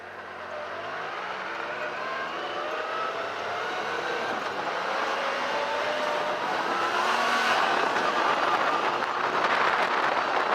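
Yamaha YXZ1000R SS side-by-side driving, its engine a loud continuous roar that climbs in pitch through the gears, heard close from onboard with no talk.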